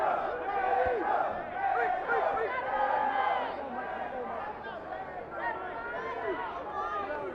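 Crowd noise at a ballroom boxing event, a roaring mix of shouts and cheers from spectators backing one fighter, sustained and distant under a commentator's voice.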